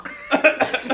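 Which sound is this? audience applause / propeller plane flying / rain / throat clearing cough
throat clearing cough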